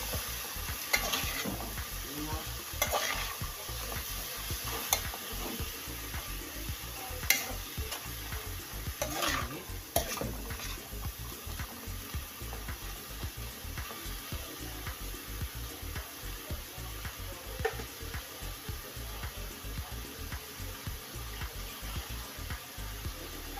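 Mung bean sprouts with shrimp are stirred in a frying pan, giving a steady close sizzle with repeated scraping and clinking of the utensil throughout, with no talking.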